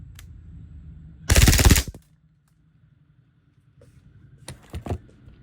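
A WE G18 airsoft pistol fires one short, loud full-auto burst of rapid rattling shots, followed by quiet mechanical clicks and handling noise.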